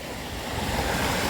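Sea waves break steadily on a beach at Redang Island in Malaysia during the calm season, a continuous loud wash of surf with some wind rumble and no voices.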